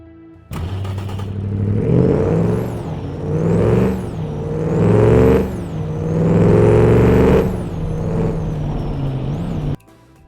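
A car engine with a low-RPM diesel-like rumble revs up and down in several loud, rising and falling swells, with a high turbo-like whine riding on top, alone and close.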